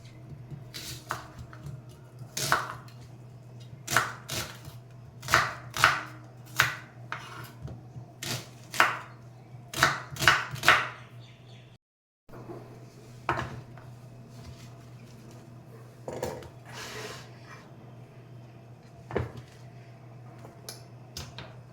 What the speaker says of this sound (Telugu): ఉల్లిపాయలు కట్ చేసుకుంటాను